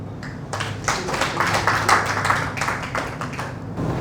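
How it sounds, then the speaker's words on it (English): Applause after a medical presentation on anaphylaxis: a small group claps in an uneven, moderately loud burst that fades toward the end. "Warm round of applause for a beautiful presentation"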